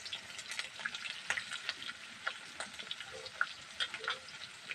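Ginger-garlic paste and cumin frying in a pan for fish curry, a quiet, crackling sizzle with scattered pops and stirring scrapes, close and without talk.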